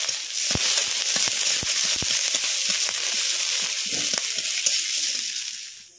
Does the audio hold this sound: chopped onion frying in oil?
yes